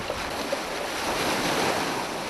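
Sea waves rolling in along a rocky coast where women divers work, heard as a continuous, fairly loud wash of surf and wind with no pauses and no voices.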